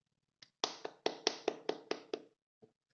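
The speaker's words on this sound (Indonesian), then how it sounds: "Beri aplaus." A small, quiet round of applause for a student group in a classroom: about eight crisp, evenly spaced claps, then one last soft clap, with no voices.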